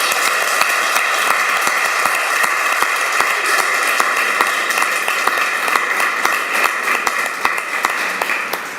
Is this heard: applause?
yes